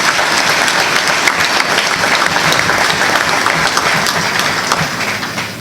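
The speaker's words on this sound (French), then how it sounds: "Je vous prie donc d'applaudir aussi notre ASBEL Congo Culture." An audience at an eloquence evening staged as a mock trial applauds, a dense and steady wash of clapping that holds strong throughout and fades slightly at the end.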